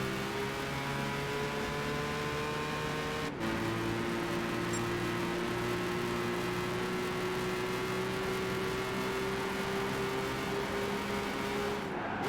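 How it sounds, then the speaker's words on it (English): A pickup truck engine drones steadily in Gran Turismo 5 during a race, holding one sustained tone that shifts slightly once before carrying on, continuous and fairly loud with no talk. "This engine sound is actually terrible."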